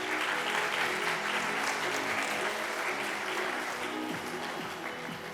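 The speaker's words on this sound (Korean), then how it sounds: "박수 부탁드립니다" Audience applause at a world citizenship forum, a dense, sustained roar of many hands clapping together, loud and even, easing slightly toward the end.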